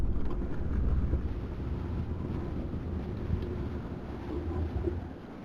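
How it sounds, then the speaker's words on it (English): Wind blowing steadily through a scene in the adventure video game Amerzone, a continuous low rushing whoosh with gentle swells, heard alone. "you can suddenly hear there's wind blowing through"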